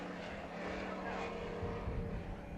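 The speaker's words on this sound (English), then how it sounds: "We have a drag race to the line, and it'll be Ehler on the final lap" Hobby Stock race cars at Bakersfield Speedway roar continuously in a close finish, a dense engine drone holding steady at high volume throughout.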